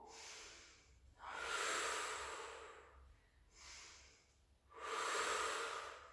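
Heavy breaths during a Pilates exercise come close and soft, three long airy inhale-exhale cycles with short gaps between them, and no other sound.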